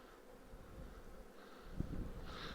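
Honey bees buzz softly on top of a hive box, a faint continuous hum with light rustling and a brief bump near the end.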